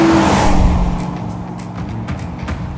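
Ford Mustang Boss 429 driving past with a loud, deep engine roar that fades slightly, tire noise and rumble continuing throughout, no talk.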